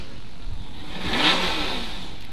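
A race car engine revs loudly on the starting line at the 2017 Riverhead drag race, a steady broad roar that swells near the middle and then eases, with no voices over it.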